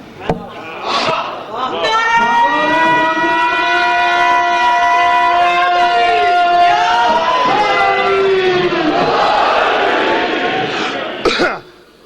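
Massed voices of a congregation at a religious sermon chant a long slogan together, one loud sustained cry lasting most of the time, framed by brief rough throat sounds at the start and a sharp noise at the close.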